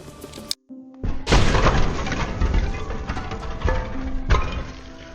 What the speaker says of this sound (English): the report from a subsonic 300 blackout at the barrel is very quiet